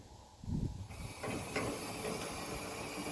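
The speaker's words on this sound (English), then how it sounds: "that's shooting a small stream of steam up the stack" Steam blower on a full-size 1870s locomotive replica shooting a small stream of steam up the stovepipe stack, giving a steady close hiss with a few mechanical clicks as it starts.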